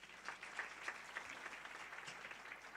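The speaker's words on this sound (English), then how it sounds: "Let us give her a round of applause." An audience at the unveiling of a women's fund in Mpumalanga applauds a chairperson, a steady wash of clapping at a fairly faint, distant level with a few sharper claps standing out early on.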